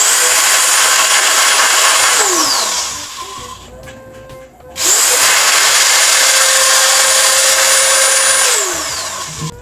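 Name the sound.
angle grinder running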